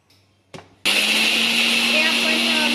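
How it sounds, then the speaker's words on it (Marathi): A kitchen mixer grinder whirs loudly, grinding chillies, cumin and ajwain for a masala paste, starting abruptly after a short click and running as a steady, high whine. "हे आपण मिक्सरवर काढून घेत आहोत।"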